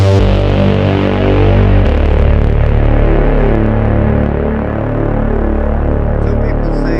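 A Teisco S110F synthesizer with ARP-licensed factory aftertouch plays a loud, sustained, buzzing tone with dense harmonics, steady throughout with a slight shift partway, and no talk over it.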